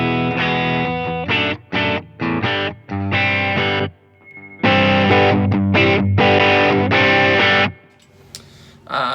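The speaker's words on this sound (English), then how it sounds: "There's a little demo of the clean electric sound" An electric guitar played through a Line 6 Helix on a clean preset rings out in loud strummed chords, heard alone in separate bursts with short silent gaps between them.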